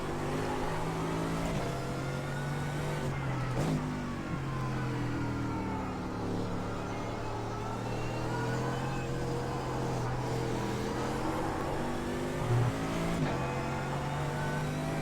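A race car engine on the Nordschleife in the iRacing sim, carrying a heavy fuel load on worn tyres, drones loud and steady, rising and falling through gear changes as it accelerates and lifts.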